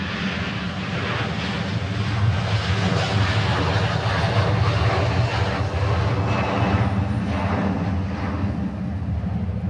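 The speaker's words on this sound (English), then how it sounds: "This here Hawaiian 330 is the last Hawaiian with the older livery." Hawaiian Airlines Airbus A330 airliner at Honolulu airport, its jet engines producing a continuous loud, broad roar that holds steady throughout, heard from a nearby outdoor vantage.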